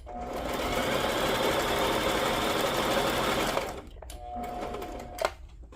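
A sewing machine stitches through a tea bag junk journal page with a fast, even mechanical whir for several seconds, pauses, then runs a short second burst, close and clear.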